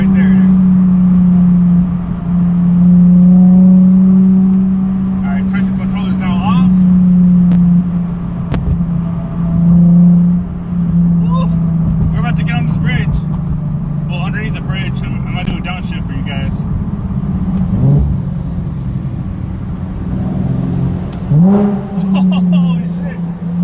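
A rebuilt, previously wrecked Nissan 370Z drones loudly from inside the cabin, its engine note rising and falling as it accelerates, with voices talking and exclaiming over it throughout.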